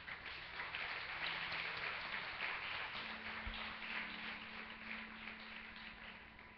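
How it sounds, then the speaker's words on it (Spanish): A church congregation at a Sunday service claps together, a steady, muffled wash of applause that holds evenly and tapers slightly at the close. "Dele un aplauso al Señor."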